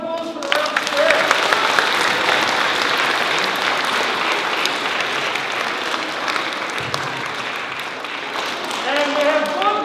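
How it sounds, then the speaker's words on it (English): Audience applause for a school's Round Square group at a Friday morning assembly, a dense, steady wash of clapping across the whole stretch, with voices and cheers rising near the end. "big round of applause for the Round Square"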